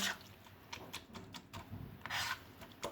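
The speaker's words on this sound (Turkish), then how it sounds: "Şöyle bıçakla sadece iki tur üzerinden geçin." A knife scrapes and taps over roasted red peppers on a board in quick, uneven strokes, faint and close, with soft rasping bursts and no talking.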